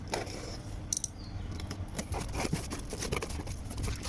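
A package is opened by hand with snipping, crinkling and rustling sounds, along with a few sharp clicks. The noises are close, fairly busy and continuous, and no talk is heard.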